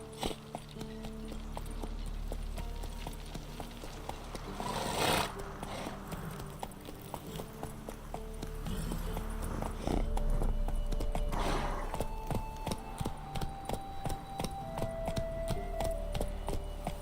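Horse hooves clop in a steady galloping rhythm in The Witcher 3, loud and close, with a brief whinny-like swell and game ambience layered underneath.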